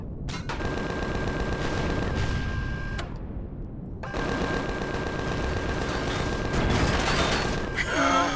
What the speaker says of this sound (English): Whoa, rockets incoming.